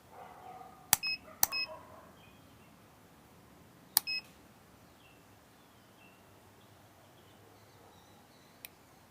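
Multimeter continuity check between pins on a 2007 Mercury 225 Optimax ignition system, giving a few short, sharp beeps: two close together, another a few seconds later and a faint final blip, over quiet background.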